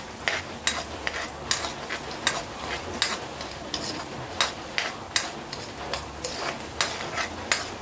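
Garlic browns in a pan, a soft steady sizzle beneath regular scraping strokes of a utensil against the pan, close and moderately loud with no talking.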